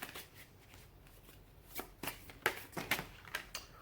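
Tarot cards being shuffled and drawn by hand, giving a quick run of close, crisp riffling and slapping bursts that grow louder toward the end, with no talking.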